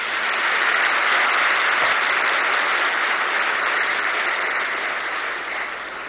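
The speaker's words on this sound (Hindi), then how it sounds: "हमारे सारे पुराने बहन भाई जो पहली बार नहीं आए हैं वो पहली बार आने वालों के लिए जोरदार ताली बजाइए।" Dense, sustained applause from a large audience at a spiritual gathering, a steady wash of many hands clapping throughout, loud and continuous before tapering slightly at the end.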